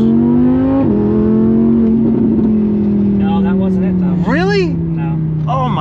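A supercharged Ford Mustang GT revs hard up close, a loud droning engine note dipping and holding, then several quick rising-and-falling blips near the end, with excited voices over it.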